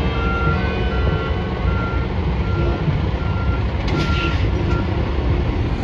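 Truck reversing beeps on a New York City street, a repeated steady tone over a loud idling engine rumble, with a brief hiss of air brakes near the end.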